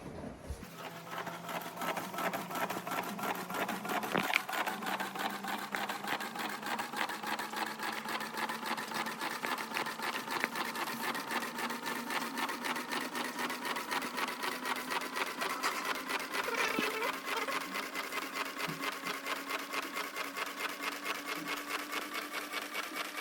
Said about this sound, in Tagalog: The printer is aligning the print head.